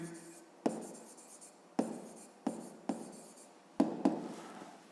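A pen writes on paper while a maths exercise is worked out. Short scratching strokes come in separate bursts, each starting with a tap, about six of them over a few seconds, quiet and close, with no talking.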